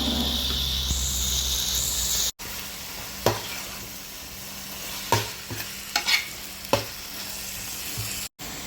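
Chicken pieces stirred with chili powder, turmeric and masala in a frying pan, giving a continuous hissing sizzle broken by several sharp spatula scrapes and clacks, with two very short dropouts.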